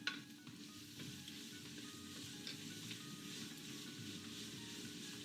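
Chopped vegetables sizzle and fry steadily in hot avocado oil in a pre-heated pot, a continuous crackling hiss with faint stirring scrapes, no talk.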